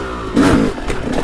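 A 2002 CR125 motorcycle engine revs up in second gear, a short, loud, close rising snarl that dips and picks up again.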